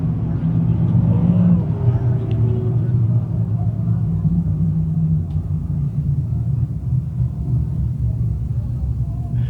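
Stock cars racing around a speedway in a sportsman feature, with a steady low engine rumble and drone from the pack running continuously; one car spins and slows in turn four while the rest carry on.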